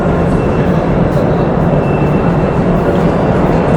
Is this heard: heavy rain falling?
no